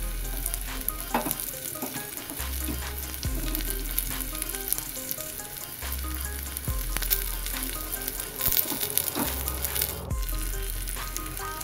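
Whole spices, including cumin and a five-spice tempering, sizzle loudly in hot oil, a dense crackling fry with pops, rattles and spoon clinks over a low background hum.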